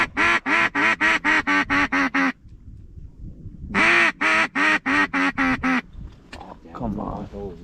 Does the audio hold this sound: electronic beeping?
no